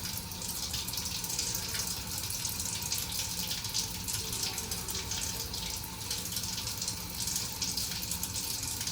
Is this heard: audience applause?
no